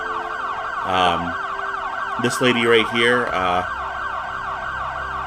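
Ambulance sirens wail in the city-builder game Cities Skylines 2, a few rising and falling bursts over a steady mid-pitched game drone, with a voice speaking briefly over them.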